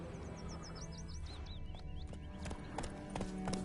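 Roach the horse's hooves clip-clop at a walking pace in The Witcher 3, faint under birdsong and ambient outdoor game sound, with scattered hoof strikes and no talk.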